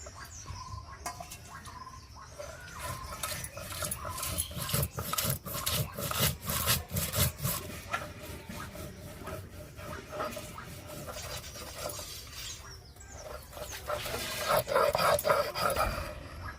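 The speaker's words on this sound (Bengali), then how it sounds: "মশলাটা বাটা হয়ে গেছে" Spice paste for an egg masala is ground by hand, producing continuous rhythmic rough rubbing and scraping strokes up close that grow louder near the end, with no speech.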